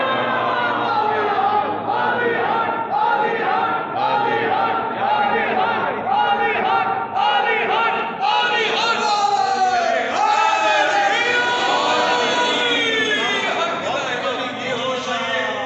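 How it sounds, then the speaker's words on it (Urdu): Crowd at a Multan poetry gathering shouting Haidari slogans, many voices rising together in loud, repeated chanted cries that fill the space continuously. "ہم لگاتے ہیں حیدری نعرے"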